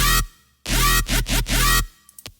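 Huge Serum synth bass, fully post-processed: a loud sustained growl, then a string of three rhythmic wobbling bursts and a longer held note, ending with a few faint clicks.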